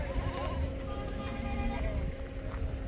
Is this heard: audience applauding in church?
no